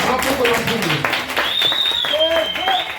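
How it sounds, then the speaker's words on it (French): A church congregation in Matadi applauds at a Christmas service, dense clapping and crowd noise with a voice speaking over it and a high sustained tone sliding in midway. "Donnons une acclamation au Seigneur"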